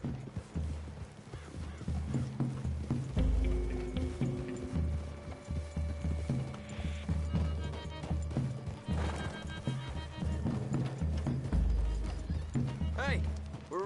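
Horse hooves clip-clop at a steady walking pace in Red Dead Redemption 2, close and clear, with a horse whinnying once and game music and voices talking over them.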